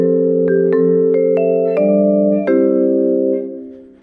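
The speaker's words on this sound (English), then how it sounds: "Vibraphone." A vibraphone plays a short commercial jingle: about six struck notes in a loose rhythm, each ringing on with long shimmering sustain before fading out at the end.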